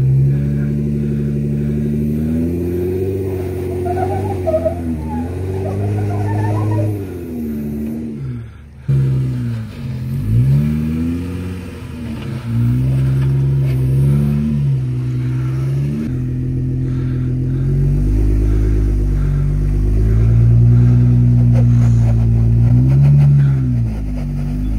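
A Jeep engine rumbles loud and close while climbing the Double Sammy rock obstacle at Sand Hollow, Utah, repeatedly revving up and easing off in surging swells over about twenty-five seconds, with no talking.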